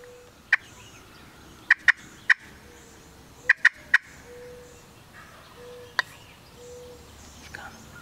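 Wild turkey gobbling during a North Carolina turkey hunt, with several sharp gobbles in quick bursts, some doubled and tripled, fairly close, then a later gobble and faint rustling in a quiet outdoor setting.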